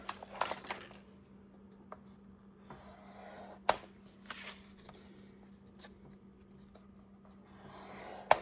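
Folded paper for an art journal is scored with a tool, giving sparse, close scratchy strokes and a few sharp ticks and taps, separated by quiet gaps over a faint steady hum.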